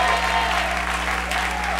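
A church congregation applauds in a dense, steady wash of clapping that stays close and loud throughout, with faint voices mixed in beneath.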